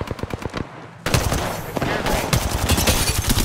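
Rapid bursts of automatic gunfire in a console shooter played with a controller, loud and close: a quick staccato run of shots, then a denser, continuous volley with faint voices underneath.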